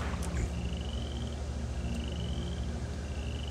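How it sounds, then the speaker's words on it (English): Frogs croak in a video game swamp level of Mask of Eternity, a steady, pulsing chorus over a low constant hum, with trilling calls repeating in the background. "we need to listen out for frogs"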